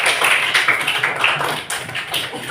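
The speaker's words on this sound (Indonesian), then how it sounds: "sekali lagi tepuk tangan juga untuk Rida" Classmates clapping for a student in a classroom, a brisk patter of hands from a small group, fairly close, with uneven bursts and a brief dip midway before the clapping resumes.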